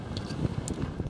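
Strong wind buffeting a microphone on a UK shore during line fishing, a continuous loud rumbling roar with gusty bursts and no speech over it.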